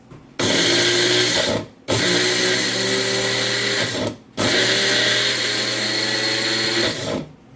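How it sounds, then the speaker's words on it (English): A Magic Bullet blender whirs in three loud bursts, each running steadily for a couple of seconds, separated by brief pauses. "All I do is blend it till it's a nice, fine consistency."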